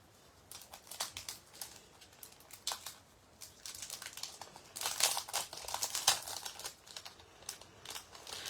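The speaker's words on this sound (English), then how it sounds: "let's open up our card 2 kit" A card-making kit package is opened, its plastic and paper wrapping crinkling and rustling in close, irregular bursts that grow busier toward the middle and then continue in scattered handling noises.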